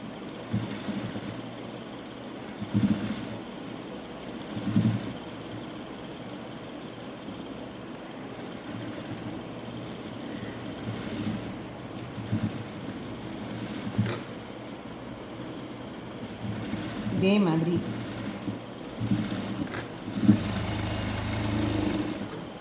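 A sewing machine stitches piping onto fabric for a potli button, running in steady bursts with brief pauses, close and moderately loud over a low background hum.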